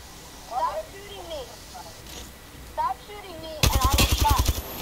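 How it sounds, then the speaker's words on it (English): Rapid automatic gunfire in a video game bursts in near the end, loud and dense after quieter stretches of game sounds, with voices talking throughout. "Jesse, stop shooting me!"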